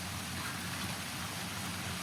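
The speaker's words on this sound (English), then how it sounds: "Love the rain so much here." Rain falls steadily on a garden in Virginia, a constant, even hiss of drops on surfaces close by, moderately soft and unbroken, with no voices.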